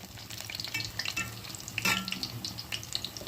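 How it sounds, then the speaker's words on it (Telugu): Mirchi bajji, chili fritters stuffed with peanuts, sesame, tamarind and ajwain, frying in hot oil: a soft, steady crackle and sizzle close by with small popping bursts, no voices. "కొంచెం వేగాలి, అస్సలు తొందరపడద్దు"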